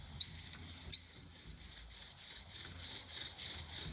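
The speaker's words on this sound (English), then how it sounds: "I'm creating friction by spinning the spindle in this hole" Wooden bow drill spindle spun in a hole in a wooden board, a rhythmic rasping back-and-forth friction sound with regular strokes, close and moderately quiet.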